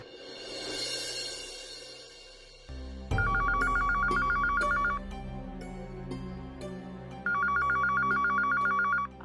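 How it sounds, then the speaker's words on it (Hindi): A landline telephone rings in a home, two bursts of rapid electronic trilling that come loud and close over a low background hum. "फोन वाजतोय केव्हाचा,"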